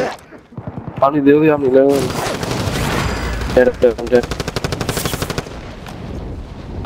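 Bursts of rapid video game gunfire, loud and close, rattling in quick repeated volleys while a player talks over parts of it.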